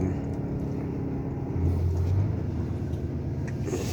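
A Scania truck turns around, its heavy diesel engine giving a continuous low rumble that swells slightly partway through, with no voices.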